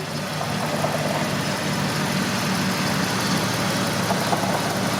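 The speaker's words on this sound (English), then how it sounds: "Glorious sound on this engine." Steady, even idle from the petrol 4.6 litre V8 of a restored, customized Ford F150 Triton pickup, a close low rumble with a faint knocking texture and nobody speaking.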